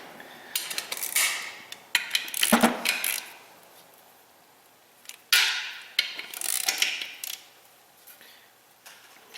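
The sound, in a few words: torque wrench tightening bolts on rear-wheel-drive clutch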